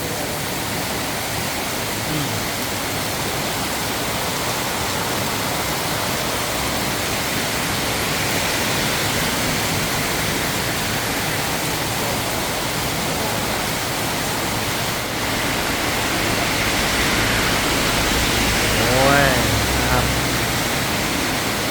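Dense, steady hiss of heavy rain pouring down in Kanchanaburi, loud and unbroken throughout, with a brief tonal whine rising near the end.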